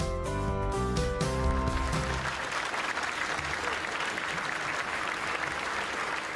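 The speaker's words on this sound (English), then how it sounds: "A round of applause for Fadi Zuki, his brothers, and all of our" Applause from a gala business awards dinner audience swells under fading music and then fills the room as steady, dense clapping from a large crowd.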